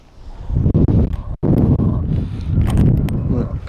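Wind buffets a microphone outdoors in a garden on a gusty day, a steady low rumble that swells and dips continuously for several seconds with one brief dropout.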